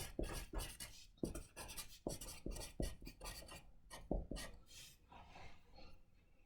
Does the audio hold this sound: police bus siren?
no